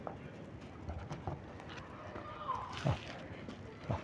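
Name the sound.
domestic pigeons being let out of their loft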